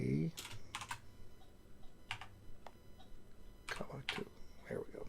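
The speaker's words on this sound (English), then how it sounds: "it'll help if I would type it properly here" Typing on a computer keyboard in short clustered bursts of key clicks, close and fairly quiet, with faint voice sounds in between during a geometry lesson.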